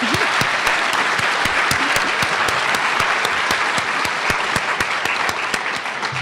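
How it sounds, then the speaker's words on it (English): Hearty applause at a college Family Weekend gathering, a dense crowd clapping loudly and evenly with sharp individual claps standing out, lasting several seconds. "I just want to give her a great round of applause for pulling this off"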